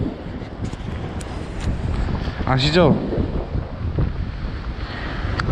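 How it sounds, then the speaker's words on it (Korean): Steady wind buffets the microphone at the sea during a fishing trip on the East Sea coast, a continuous broadband rush lasting throughout, with someone speaking briefly over it. "바람이 불어서 이제 애매하네요"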